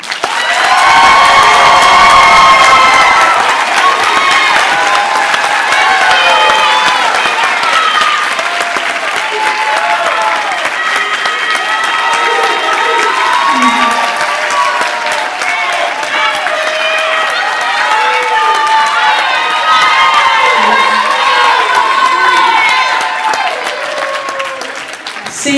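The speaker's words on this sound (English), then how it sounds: "Congratulations, seniors. We may all applaud now." A crowd at a high school graduation ceremony for a digital academy applauds the seniors in a long, steady wave of clapping, mixed with cheers and whoops throughout.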